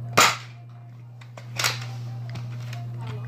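Gunshots in a first-person shooter video game at a shooting range, two sharp separate cracks over a steady low electrical hum, with faint clicks after.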